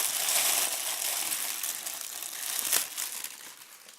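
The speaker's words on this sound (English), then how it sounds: "remove the wrapping paper." Wrapping paper crinkles and rustles continuously as it is peeled away from a Fortnum's Alphabet J ceramic mug, with a close, dense crackle that peaks early and gradually thins out.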